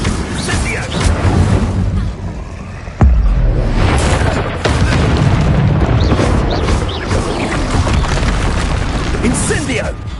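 Loud spell explosions booming from an Expulso charm in a Hogwarts Legacy duel on PS5 Pro, with a sharp blast near three seconds and repeated crashing bursts over continuous battle noise and a taunting voice.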